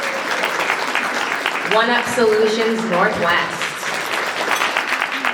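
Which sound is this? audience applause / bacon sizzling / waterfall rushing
audience applause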